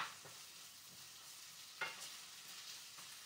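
Onions and garlic softening in a pan for homemade moussaka, a soft steady sizzle with light stirring scrapes and a couple of sharper clacks, close but fairly quiet.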